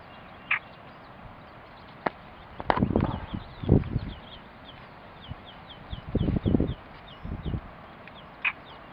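Scattered starling calls, short squawks and chirps, come in bursts with quiet pauses between them against a soft background hiss, at Cabranosa near Sagres, Portugal.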